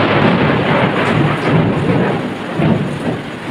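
Thunder rolls through a heavy rainstorm, a loud, continuous roar of pouring rain with deep rumbles swelling several times, close and with no voices.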